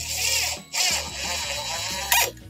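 An electric drill drives drywall screws into an MDF board, its motor whining in short bursts with pitch shifts as the screw bites, pausing briefly between runs.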